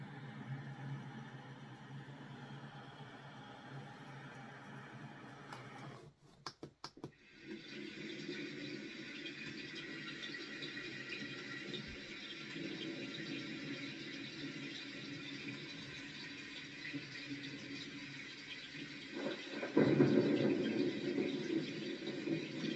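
Steady broadband hiss of rain from a Loftie sound machine fills the whole stretch, with a brief crackle early on and a low rumble swelling near the end like distant thunder.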